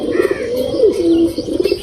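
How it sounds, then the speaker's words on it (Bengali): Pigeons cooing close by while feeding, a few soft repeated coos with a longer drawn-out call in the middle, plus faint chirps and light wing or shuffling sounds. "সব কবুতরগুলো খাওয়া খাইতেছে"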